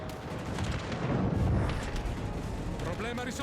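Naval guns fire in the World of Warships Legends game, with rumbling, booming blasts that swell to a heavy peak midway and then ease off, while a player talks over the battle.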